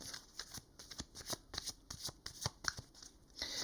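Tarot cards are shuffled by hand in a series of crisp riffles and soft slaps, close and clear in irregular bursts, with no speech.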